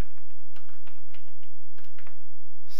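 Quick, uneven keystrokes on a computer keyboard, close and fairly loud, clicking in short bursts with no voices.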